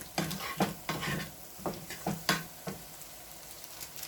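Maggi noodles are stirred in a pan with a utensil, giving a quick run of rhythmic scraping clicks and taps over a faint sizzle.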